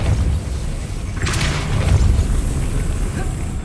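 Depulso spell cast in Hogwarts Legacy, a short forceful whoosh and boom near the middle over a low background rumble.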